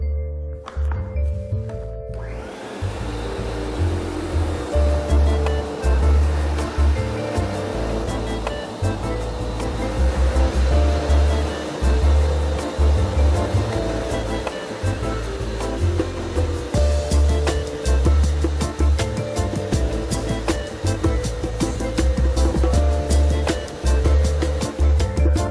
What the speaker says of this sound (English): First scrubbing, then scrubbing and vacuuming.